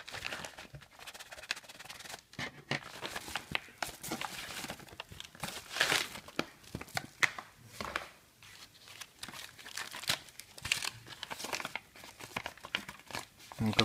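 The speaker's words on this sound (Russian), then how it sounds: "сейчас откроем пакет и посмотрим," Plastic mail package from an online shop being opened up close, with irregular crinkling, rustling and tearing of plastic throughout, fairly quiet, under occasional speech.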